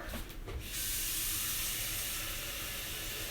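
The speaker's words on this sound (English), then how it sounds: "Take my water. Dump it in there." Water pours into a big cooking pot, starting with a brief splashy burst and settling into a steady, continuous hiss of filling water that stays close and fairly loud.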